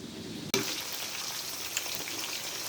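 Sudden loud sizzle of marinated pork hitting hot oil, then continuous crackling and spitting from the pan, close and steady.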